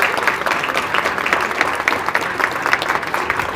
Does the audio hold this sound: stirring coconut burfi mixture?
no